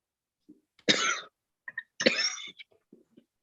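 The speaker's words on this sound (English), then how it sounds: "sips cautiously, and coughs" Two harsh coughs after a sip of whiskey, close and fairly loud, each a short rough burst, followed by a few small throat sounds and breaths.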